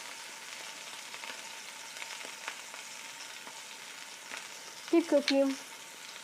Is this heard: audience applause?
no